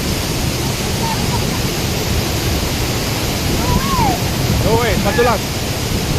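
Steady broadband rush of Bayugao Falls in Apayao, a waterfall pouring continuously close by, with bird calls chirping faintly over it and people talking briefly.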